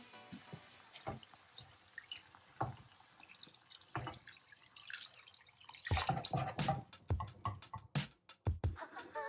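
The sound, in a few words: pouring cold water into a pot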